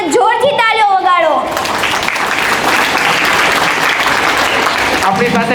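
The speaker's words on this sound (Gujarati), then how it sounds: "એટલે જોરથી તાળીઓ વગાડો." Loud, sustained applause from an audience at a school prize-distribution ceremony for Standard 4 students, starting after a brief voice at the beginning and continuing steadily, with another voice returning at the end.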